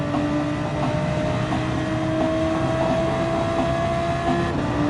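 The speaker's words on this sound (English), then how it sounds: "Feather touch the throttle." Car engine held at steady revs with light throttle during GTEC driving practice, a continuous loud drone with steady harmonic tones and no speech.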